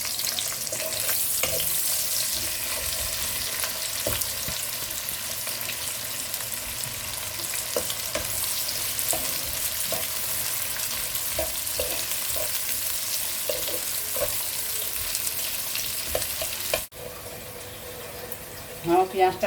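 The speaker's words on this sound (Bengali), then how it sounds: "এবার আমি এতে পেঁয়াজ কুচিগুলো দিয়ে দিচ্ছি।" Chopped onions fry loudly in hot oil in a pan for a chicken curry, stirred now and then. A dense, steady sizzle runs throughout with scraping stirs, then drops off sharply near the end.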